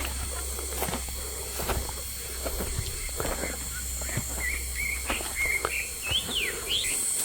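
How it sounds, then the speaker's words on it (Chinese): Birds chirping and singing in a remote mountain forest, clear whistled calls and trills near and far over a faint insect hum, with rustling footsteps along an overgrown path. "那个里面的那些鸟儿的声音都叫得好大的声音了哈"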